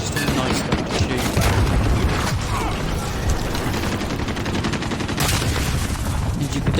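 SKS rifle shots in Call of Duty Modern Warfare, loud repeated gunfire with sharp reports and mechanical clatter, fired in a continuous stream.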